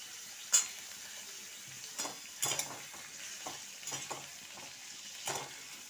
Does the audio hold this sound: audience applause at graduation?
no